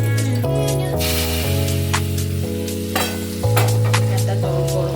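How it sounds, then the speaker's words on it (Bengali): Leftover fish-frying oil poured into a hot pan with chillies gives a continuous hissing sizzle with stirring scrapes, partly covered by steady background music. "এই তেলটা এখানে দিয়ে দেবো"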